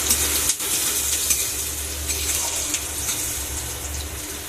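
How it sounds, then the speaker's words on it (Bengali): Onions sizzle and fry in hot mustard oil, a steady, close, dense crackling hiss that holds evenly throughout with no one speaking. "এবার তেলটা গরম হয়ে গেল, পেঁয়াজ ছেড়ে দিলাম। পেঁয়াজ দিয়ে লাল করে ভেজে নেব।"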